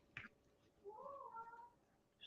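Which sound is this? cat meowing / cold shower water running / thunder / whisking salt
cat meowing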